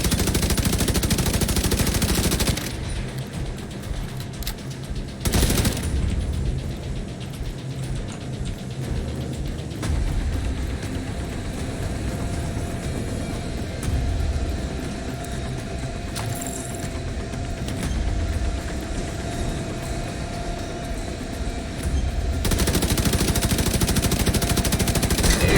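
Sustained automatic gunfire in Warlords of New York, rattling on loud and nearly continuous for a long stretch with dense, overlapping shots.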